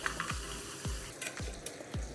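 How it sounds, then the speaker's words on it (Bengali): Fish frying in hot oil for a Bengali poppy-seed-paste fish dish gives a steady low sizzle, broken by four evenly spaced soft thumps, close and moderately quiet with no talking. "ততক্ষণে মাছ কটা ভাজা হোক"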